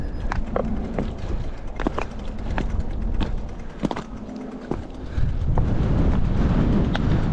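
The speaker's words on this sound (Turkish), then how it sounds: "Ah çok rüzgar var." Steady, loud wind buffeting the microphone in a forest while mountain biking, with a roaring rumble that swells stronger toward the end, and a few brief crunching steps.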